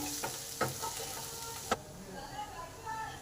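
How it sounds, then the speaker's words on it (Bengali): Spice paste sautéing in a pan, with a brisk sizzle and a few stirring clicks. The frying noise drops away abruptly partway through, leaving a quieter hiss. "মশলার কাঁচা গন্ধটা যতক্ষণ না যাচ্ছে ঠিক ততক্ষণই একটু কষে নিতে হবে"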